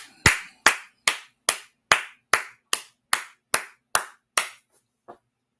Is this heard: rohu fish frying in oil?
no